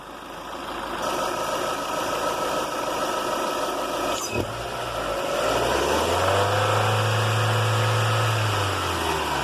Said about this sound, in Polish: dodawałem gazu, kiedy auto wchodziło na wyższe obroty